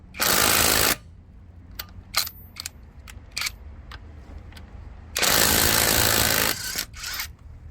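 A Stark CIW-1840 cordless impact wrench loosens a 17 mm car wheel nut. Two loud, buzzing hammering bursts, each about a second long, are separated by scattered sharp clicks and handling knocks.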